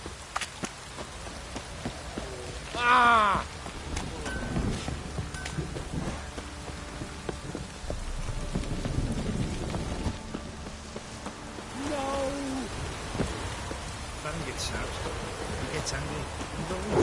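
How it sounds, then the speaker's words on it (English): Heavy rain downpour in The Witcher 3, a steady hiss of rain across the scene with faint thunder rumbles, a brief voice-like cry and other game sounds. "This downpour's a bastard, it is."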